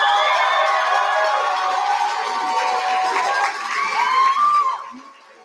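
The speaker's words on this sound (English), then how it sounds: "Let's give a round of applause to Paola Hernandez, Sonia Lopez, and Luis Montano." An audience at a Texas debate competition's opening ceremony cheers and shouts for a Houston team, a loud, close crowd roar that holds for several seconds and then fades away.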